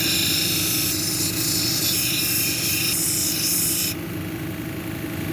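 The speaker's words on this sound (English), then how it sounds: "This wheel's not as aggressive, but you can grind a flat spot in this, so you got to keep it moving." A jasper cabochon is pressed against a spinning 220 grit wheel, giving a steady hissing grind over the motor's hum that drops off sharply near the end.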